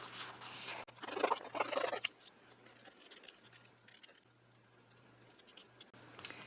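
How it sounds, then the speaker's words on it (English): Scissors cut out paper shapes for a mixed media journal close up, with a few crisp snipping strokes and papery rustles in quick bursts, then quieter scratching and faint handling under a low steady hum. "And then we cut out our shapes."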